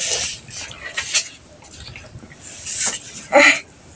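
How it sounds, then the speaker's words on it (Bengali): Paratha frying in a pan in a home kitchen, with faint sizzle and soft scraping and clinking of utensils, in bursts of patter at close range, no talk. "এই যে আমার বোন এখন পরোটা ভাজতেছে আমার জন্য।"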